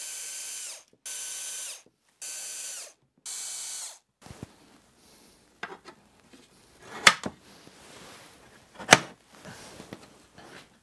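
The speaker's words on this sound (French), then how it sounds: "je mets les vis, mais je ne les serre pas pour pouvoir ajuster tout à la fin" Screws being driven into the frame of a laser engraver. Four even bursts of a powered driver whirring come first, then scattered clicks, taps and two sharp metallic knocks, all close and with no talk.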